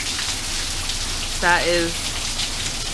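Steady rain falling in Arizona, a continuous soft hiss of drops on surfaces throughout, with a brief voice speaking over it midway.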